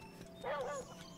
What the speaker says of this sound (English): Don't mess with the dog.